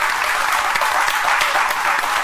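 A startup event audience gives a dense, continuous round of applause for a speaker, loud and close, with the crowd's many overlapping claps forming a steady wash.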